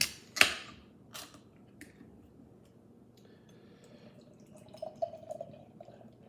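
A bottle of Spyglass Vertex stout opens with a sharp pop, followed by quiet trickling and glugging as the dark beer is poured into a glass at close range.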